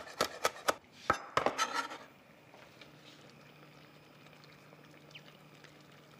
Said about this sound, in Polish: Możecie użyć również suszonego, który delikatnie posiekam.